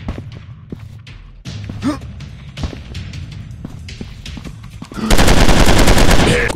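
Gunfire from the mobile shooting game Gorilla G Unknown Simulator Battleground: scattered single shots and thuds, then a loud sustained burst of rapid automatic fire at the end.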